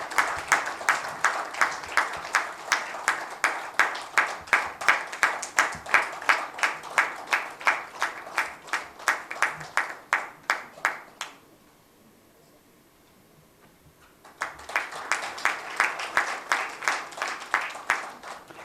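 An audience claps at a felicitation ceremony in a steady, even round of applause. The clapping is moderately close, pauses briefly into near silence, then resumes for a few more seconds.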